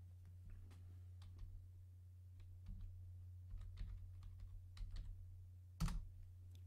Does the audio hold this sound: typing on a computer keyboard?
yes